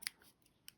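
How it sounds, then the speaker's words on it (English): Two quick, crisp snips of scissors cutting through cotton crochet thread, close and clear with a short pause between them. "Cut your yarn."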